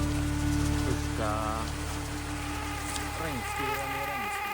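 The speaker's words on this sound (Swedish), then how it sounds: "regnskuren i regnskogen." Steady rain hisses on foliage and surfaces in the Amazon rainforest amid humming insects, with a voice speaking briefly over the constant downpour.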